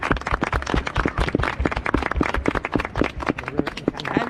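Feet stomping on a street in the medieval old town of Reval (Tallinn), given as medieval-style applause: a fast, steady run of close, sharp thumps for several seconds.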